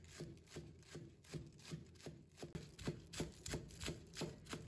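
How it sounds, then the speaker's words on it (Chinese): Knife chopping scallion greens on a cutting board, a quiet, steady rhythm of close thuds and soft slicing strokes, about two per second, with no talking. "再把葱叶切成葱花"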